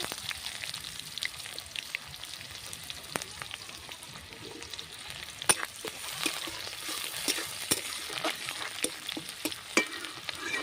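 Chopped onions fry quietly in oil in a wok, a soft continuous sizzle dotted with small pops and crackles, with no voices.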